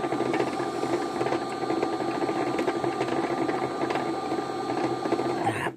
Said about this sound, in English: Now I'm just winding a dark brown thread on